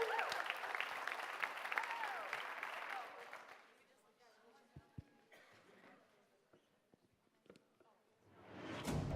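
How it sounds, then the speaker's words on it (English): Crowd applause and cheering at an APDT celebration, a dense roar of clapping for about four seconds that drops to scattered claps, coughs and murmurs, then swells again near the end. "so cheer loud."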